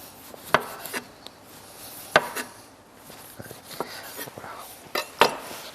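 Knife slicing a lemon into rounds on a board in a kitchen, giving a few sharp close taps and cuts scattered among quieter scraping, with no talk.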